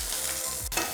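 Garlic, ginger, green chilies and curry leaves fry in hot oil in a pan for chicken 65, a steady close sizzle with a brief stir or scrape midway.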